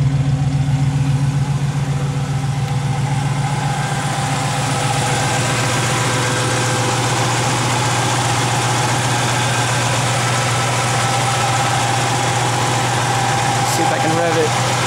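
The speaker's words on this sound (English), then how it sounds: "Got the stock exhaust on it, like what it came with. I think it sounds all right." A 1967 Camaro RS convertible with its stock exhaust idling close by, a loud steady low rumble with even engine pulses throughout.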